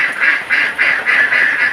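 Ducks quack loudly and close by, about six rapid nasal calls in a quick repeating rhythm.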